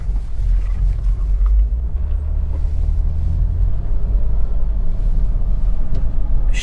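A 2002 Ford Windstar minivan drives along with a steady, loud low engine and road rumble heard from inside the cabin, no distinct gear change standing out.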